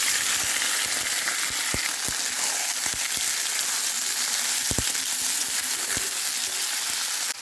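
Chicken pieces with ginger and onion fry in a hot iron wok, giving a loud, continuous sizzle with occasional clacks of stirring, heard alone with no talk.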